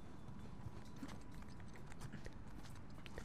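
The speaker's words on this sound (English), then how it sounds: "It was just a cow." Cow hooves in the Uncharted 4 video game, a dense patter of clip-clop steps on a mountaintop, steady and moderately faint under a constant ambient bed.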